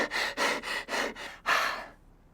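Rapid, forceful breaths, about five quick airy huffs in a row, demonstrate fast breathing close to the listener, then taper into quiet.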